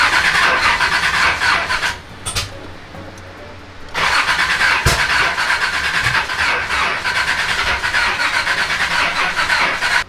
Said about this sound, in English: Feels like it wants to start.